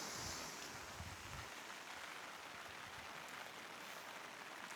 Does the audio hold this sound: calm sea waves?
yes